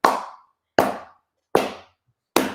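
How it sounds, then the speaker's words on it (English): Four loud prayer claps made with cupped hands, each a hollow, popping smack followed by a short decay, evenly spaced about three-quarters of a second apart with silence between them. "That's a prayer clap."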